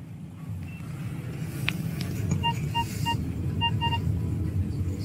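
Car driving into a city station district, a steady low road rumble with a few short electronic beeps and a brief sharp sound over it.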